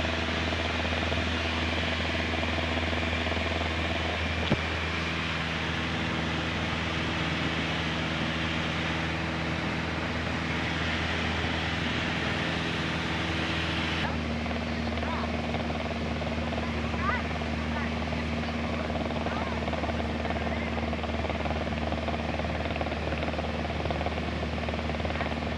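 A Piper Warrior light aircraft in flight heard from the cockpit, a steady droning engine and propeller hum with constant broadband noise over the whole stretch, while people talk over it.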